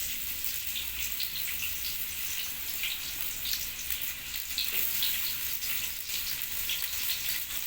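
Chopped onions fry in hot oil in a pan, a steady, dense crackling sizzle that holds at even strength throughout, close by with no talk.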